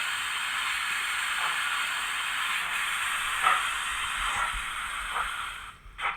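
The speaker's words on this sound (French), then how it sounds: "Faites la vapeur celle-là." Steady, loud hiss of steam from a steam engine, continuous throughout with faint mechanical knocks underneath and a brief dip near the end.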